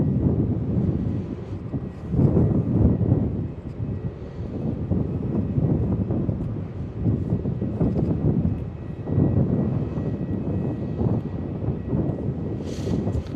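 Jet airliner taking off at Melbourne Airport, a steady broad engine roar with wind buffeting, sustained and moderately loud throughout with slight surges, no talk.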